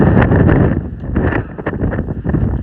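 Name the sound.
strong wind blowing on a trail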